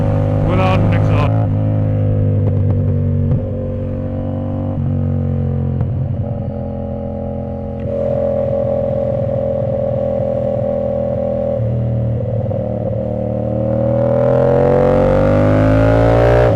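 A 450ss motorcycle engine with its exhaust removed drones loudly and steadily up close, holding a rough idle, then climbing in pitch as it revs up toward the end.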